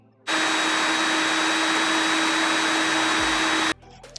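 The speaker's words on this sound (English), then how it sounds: "So now I'm just gonna drill it out." A power drill whines loudly and steadily for about three seconds drilling out a stripped bolt on a Honda CRF300 motorcycle, then cuts off abruptly as the bit breaks, leaving some faint clicks.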